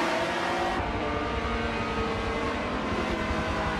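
Race car engine in the video game Forza 7 at Circuit de Catalunya, with a dense continuous engine roar at steady high revs and no let-up or talk.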